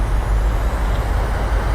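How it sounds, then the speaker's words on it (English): In Flight Simulator 2020, an airliner's engines roar in reverse thrust just after touchdown, a dense steady broadband rush that stays loud and even throughout, with no voices. "Let's engage a reverse thrust."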